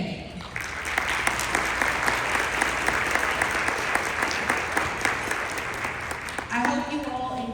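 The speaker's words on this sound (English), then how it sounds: "let's give a huge round of applause" A conference audience applauds warmly in steady, sustained clapping that runs throughout at close range, with a voice speaking briefly near the end.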